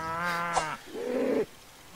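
Cows in the RuneScape video game give two drawn-out synthetic moos in quick succession, clear and close, with no talking over them.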